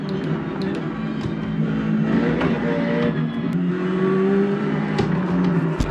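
A heavy Ferrari race car in the iRacing simulator drones steadily with its engine rising and falling through gear changes, moderately loud and continuous.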